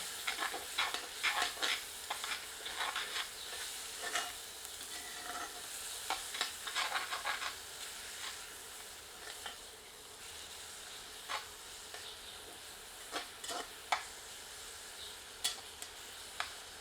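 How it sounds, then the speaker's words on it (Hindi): Onions and chicken for chicken curry sizzle softly in a pan over medium heat, with a quiet steady hiss broken by occasional scrapes and clinks of a stirring spoon. "आंच मध्यम करके इसे 3 से 4 मिनट भूनते हैं"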